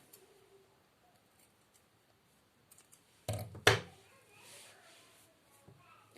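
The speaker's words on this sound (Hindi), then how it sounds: "इस तरह से इसको भी इसके साइज में काट लेते हैं।" Scissors snip crochet yarn to size, giving a quick pair of sharp cutting clicks close by in an otherwise quiet room.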